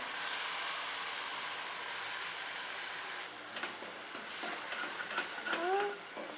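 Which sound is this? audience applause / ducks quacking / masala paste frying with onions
masala paste frying with onions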